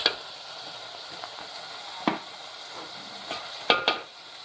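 Cumin and onion sautéing in a pan for a Bengali croaker (poa) fish curry, a soft continuous sizzle broken by a few sharp spoon scrapes and stirring clacks, with no voices.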